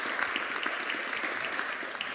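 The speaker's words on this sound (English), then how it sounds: "could we please give a round of applause to our panelists?" Audience applause for the panelists at a transport labour market summit session, a steady wash of many hands clapping, moderately loud and continuous throughout with no talk over it.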